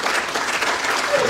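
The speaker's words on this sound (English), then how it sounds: "Let's give the Lord a good hand clap of praise as he comes to take the remainder of the service." A church congregation claps hands in praise, producing a loud, dense, continuous burst of applause with no speech over it.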